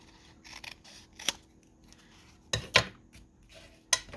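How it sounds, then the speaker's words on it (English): Scissors trim the edge off a 12x12 paper bookmark, heard as a few sharp, close snips with quiet rustling between them and no talking. "I'm just going to trim off this edge."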